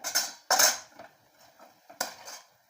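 A spoon scraping and clinking against a pan while stiff semolina (rava) dough is stirred, with three sharp metallic knocks separated by quieter scraping, close and alone.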